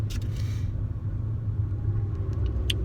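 Car driving slowly in, a steady low engine and tyre rumble close by with a few faint high clicks, no talking.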